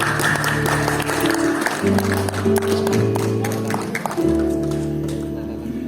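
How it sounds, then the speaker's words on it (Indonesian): An audience at an outdoor amphitheater event applauds beneath loud, sustained music, with the clapping as a soft rattling layer under droning tones. "saya mohon tepuk tangannya dan semangat untuk malam hari ini"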